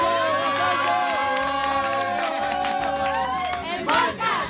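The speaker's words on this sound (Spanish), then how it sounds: "¡Un aplauso!" An audience at a lively gathering in Mexico cheers and shouts, with loud, continuous crowd noise and raised voices. Excited calls rise above the din near the end.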